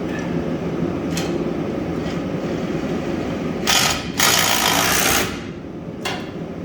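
A bolt being tightened with a wobble socket on a ratchet: soft mechanical clicking, then a couple of louder, longer bursts of ratcheting close by, with no talking.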